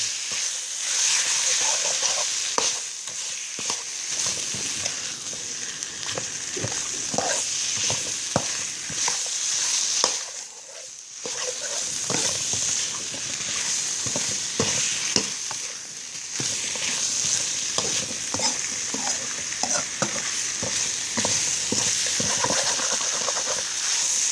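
Curry paste stir-fried in a pan over low heat for a northern Thai pork curry with wild banana blossom: a steady, continuous sizzle with scraping stir strokes running almost throughout, one short pause midway, no talk.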